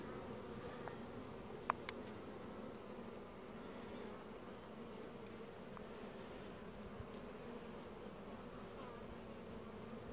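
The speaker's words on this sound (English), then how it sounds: "Check out the bees. The bees are attacking those," Bees buzz in a steady, even drone around an opened beehive during a hive split, with a few faint clicks and no voices.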